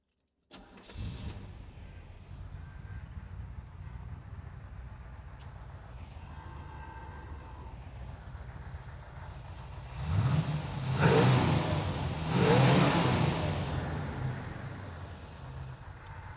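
Iso Grifo classic car engine, Italian-bodied with an American V8, cranks and catches, then idles roughly before two strong revs swell up and fade, fairly close with no talk.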